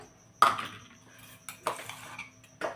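Gram flour being mixed with a ground paste of ginger, garlic and green chilli for crisp, layered alu vadi, giving a few scraping, clattering utensil strokes against a vessel with quiet gaps between them.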